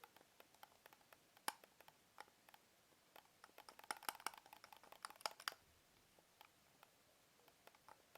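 Logitech M330 Silent Plus wireless mouse buttons being pressed, giving a run of soft, faint, muted clicks scattered irregularly, bunched more densely in the middle and trailing off toward the end.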